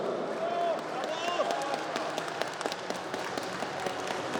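A crowd claps in a steady, dense patter throughout at a youth football tournament closing ceremony, with faint voices and cheering mixed underneath.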